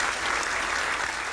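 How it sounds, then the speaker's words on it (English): A studio audience at a comedy game show breaks into loud, dense applause, a brief steady wash of clapping with no talk over it. "let's give her a big round of applause"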